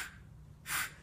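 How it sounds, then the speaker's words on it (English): A duck call is blown plainly, without air pushed from the diaphragm. Two faint, breathy bursts of airy hiss come close together, the second fuller, with no clear quack. "just blowing and not using that air from your diaphragm, it's gonna sound like this."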